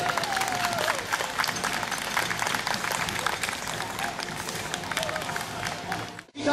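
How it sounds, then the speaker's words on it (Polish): An audience at a celebrity equestrian championship gives sustained applause with some cheering, dense and steady before cutting off abruptly near the end. "Wielkie brawa tej pary!"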